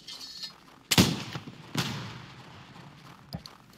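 Gunfire in the video game Northwind during a fort raid, two sharp, booming shots about a second apart that ring out and fade, then a fainter third report, fairly distant and with no talking.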